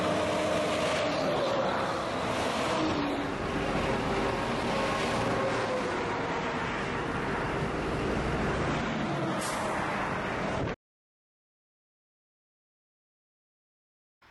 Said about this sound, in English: Hikers have to come too close to the traffic.